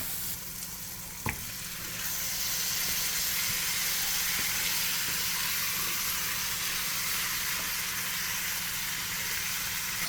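Fish goes into a hot buttered pan for curry and sets off a loud, steady sizzle that rises quickly after a brief clink and then holds at full strength, close and continuous, with no talking.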